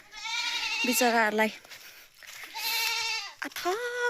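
Goats bleat nearby in two long, wavering cries separated by a short pause, with a brief spoken word between them.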